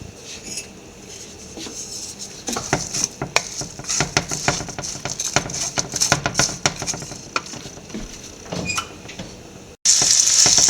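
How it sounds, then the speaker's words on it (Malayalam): Bitter gourd and onions sautéing in a pan for pavakka theeyal, with a close sizzle under a busy patter of stirring and scraping clatter and a brief sharp hiss at the end. "ഈ പാവയ്ക്കായും സവോളയൊക്കെ വഴലുന്ന സമയത്ത്"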